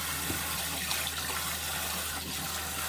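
Separated napa cabbage leaves are washed for nabak kimchi under loud, steady running water that gushes close up, with faint splashing and no voices.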